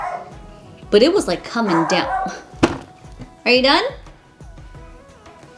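Dogs bark loudly and repeatedly indoors during a makeup session, sharp yelps and barks in bursts, with someone speaking briefly between them.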